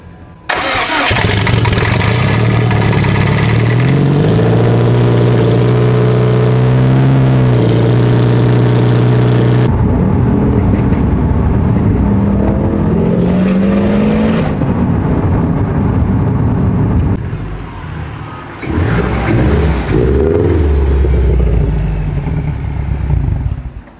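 A modified 500 whp Subaru STI starts up loud and close, then its engine revs and accelerates in rising sweeps, with brief drops between pulls and no talking.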